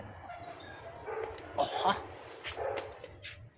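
A dog gives short yips and barks at a distance, partly masked by outdoor background noise, while people talk nearby.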